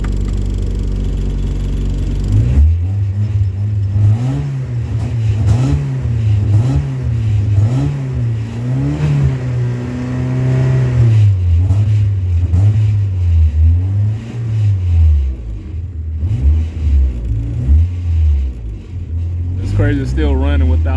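A 1994 Mazda Miata engine with a crank-no-start fault idles steadily, its low rumble rising and falling in rhythmic swells while someone talks over it close by.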